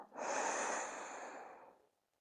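One long, close breath during yoga practice, a smooth airy rush that swells quickly, holds steady and fades out over about two seconds, alone in silence.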